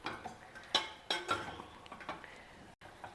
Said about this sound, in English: we will transfer this cooked moong dal and chana dal into a bowl